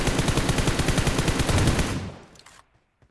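Loud, rapid automatic gunfire from an M4 rifle in PUBG Mobile, a dense rhythmic burst of shots lasting about two seconds before cutting off and fading into quiet.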